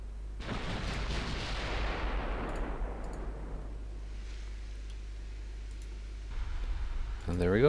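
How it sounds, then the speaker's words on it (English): Torpedoes launch from warships in the naval video game Ultimate Admiral Dreadnoughts, set in 1963. A sharp, loud burst slowly fades over several seconds above a low hum, followed by scattered clicks and a fresh swell at the end. "There go the torpedoes."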